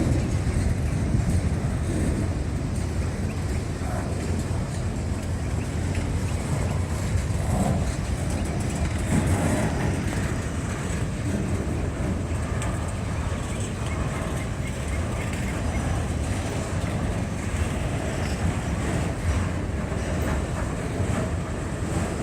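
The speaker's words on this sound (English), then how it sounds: "that way you can fit a long train like this on this siding so that the high priority train can actually pass" A long CSX auto rack freight train rolls past on a siding near LaGrange, Georgia, a loud, continuous broadband rumble with heavy wind buffeting the microphone throughout.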